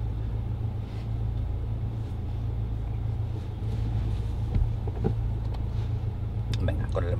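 A car drives steadily toward a motorway on-ramp during a driving lesson, a continuous low engine and road rumble close by, with quiet voices over it.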